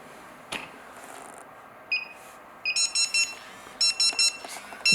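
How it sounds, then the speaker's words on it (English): An AGJ wireless restaurant pager gives short high electronic beeps, a few isolated chirps and then rapid repeated bursts, close and clear over a quiet room. "how to turn off the pager beep"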